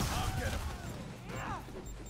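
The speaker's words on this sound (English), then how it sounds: "I'll throw out some spider drones just to have some gunfire going out." Rapid gunfire from spider drones in the PS4 game Marvel's Spider-Man, a crackling burst of shots mixed with combat clatter and game effects, moderately loud and short.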